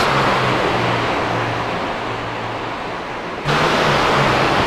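Trucks racing around the Daytona track in an All Pro Racing Series event, a loud continuous engine roar with a low drone, briefly easing before surging louder again.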